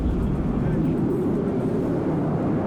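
Steady, loud low-pitched drone of a jet aircraft flying over the battlefield in the real-time strategy game WARNO, a continuous engine rumble filling the whole stretch with no change in level.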